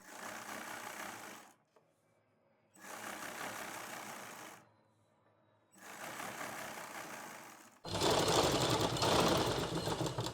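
Sewing machine running in three bursts of steady stitching along a pant seam, sewing the first stitches from the reverse side to secure the seam of a side pocket, with short quiet pauses between and a louder final burst.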